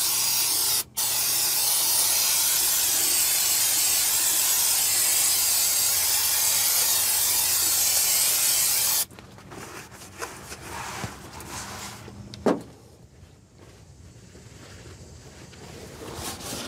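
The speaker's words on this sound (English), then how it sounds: "let me get some brake cleaner and clean this up" Brake cleaner sprayed onto truck clutch parts during a Cummins ISX15 clutch job: a loud continuous aerosol hiss for about nine seconds, then quieter handling noises and a brief sharp clank.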